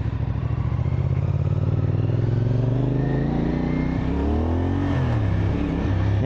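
A CFMOTO SR450 motorcycle exhaust drones steadily close by, its pitch climbing as the bike accelerates through the gears, loud and continuous with no talk over it.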